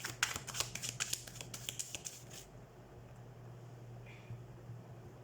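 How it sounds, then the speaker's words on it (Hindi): Tarot cards being shuffled in quick, crisp riffling bursts for about two and a half seconds, close and fairly quiet, then a low steady hum with no talking. "सबसे पहले हम कार्ड शफल कर लेते हैं"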